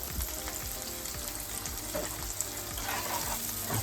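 Deep-fried chicken pops are stirred in a pan with sliced spring onion and onion, a steady close sizzle and frying crackle running throughout with soft scraping of the stirring.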